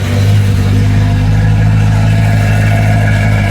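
BMW E9X M3 with S65 engine and ECS valved exhaust in closed-valve mode running at a loud, steady, deep rumbling idle, close by with no talking.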